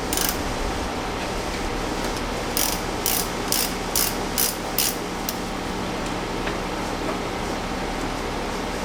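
A ratchet with a 10mm socket works counterclockwise on the negative battery terminal of a Mazda 626, a quick burst of sharp, evenly spaced clicks close up over a steady background hum.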